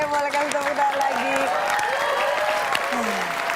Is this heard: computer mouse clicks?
no